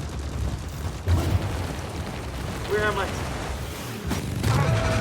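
Explosions and gunfire from the video game Deep Rock Galactic, with booming bursts around one second and again near four seconds, heard under a player's voice speaking over the game audio.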